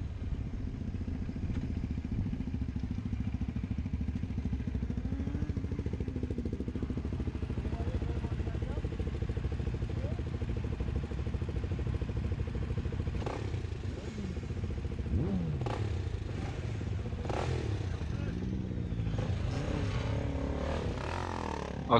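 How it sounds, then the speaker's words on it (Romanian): A group of motorcycles, including a Kawasaki ER6N, starts off together for a night ride through the city, steady low engine rumble with rising revs and gear changes from several bikes nearby, plus some clatter. "Abia ne-am reunit și am pornit motoarele"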